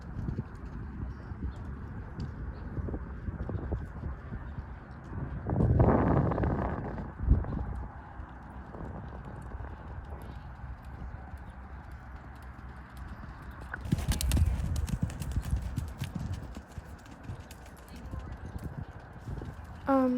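A horse's hooves thud rhythmically in a canter during a riding lesson, with wind buffeting the microphone and a louder burst of hoofbeats at a couple of moments.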